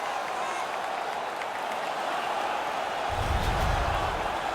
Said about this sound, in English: The crowd is all over them right now.